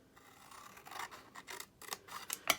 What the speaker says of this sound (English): And then we're going to cut along these lines up until that score line.